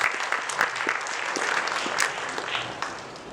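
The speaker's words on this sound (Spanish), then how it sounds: "les pido un fuerte aplauso para ella." An audience bursts into dense, steady applause for a speaker at an in-person event on creative networking spaces, filling the room for a few seconds before tapering off.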